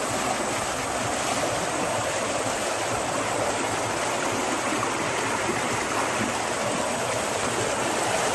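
Swollen, flooded rural stream rushing loudly and steadily, a dense continuous roar of churning water close by with no break throughout.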